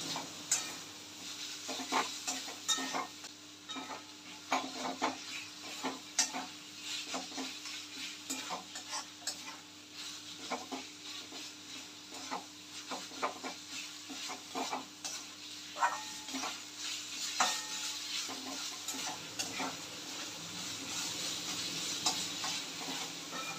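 Tomatoes frying in a pan with a soft steady sizzle, repeatedly stirred with a spatula that scrapes and taps in an irregular rhythm, close and fairly quiet with no talk.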